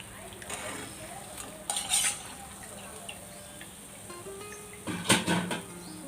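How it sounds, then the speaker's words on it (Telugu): Ariselu, rice-and-jaggery sweets, deep fry in oil with a low bubbling hiss, broken by a few clinks and scrapes of a utensil against the pan. "కొంచెం గోల్డ్ కలర్ వచ్చింది దాకా వేయించుకొని"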